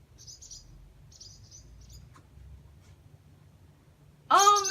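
Baby birds that fell from their nest and were rescued chirp in faint, high, rapid bursts, three clusters spaced about a second apart, before a close voice suddenly speaks loudly at the end.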